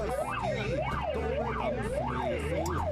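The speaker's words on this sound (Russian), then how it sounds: "В этот момент раздается сигнал тревоги." A fire station alarm siren wails loud and close, rising and falling in a steady cycle of about five sweeps, over a low background hum.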